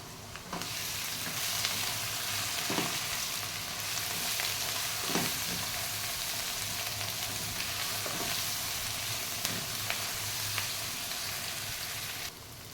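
Chili and turmeric powder fry and are stirred in a pan for rice-flake and rohu fish head curry, giving a steady close sizzle broken by a few scraping stirs.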